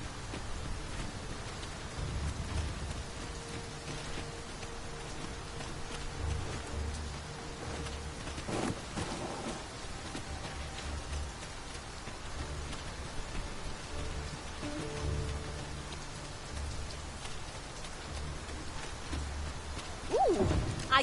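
Rain in the video game Dragon's Dogma 2 patters steadily on surfaces for about twenty seconds, with occasional louder rumbles and a few brief faint calls mixed into the wet wash.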